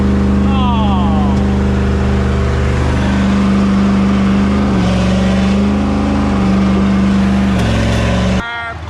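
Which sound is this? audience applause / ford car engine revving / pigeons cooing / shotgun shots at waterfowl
ford car engine revving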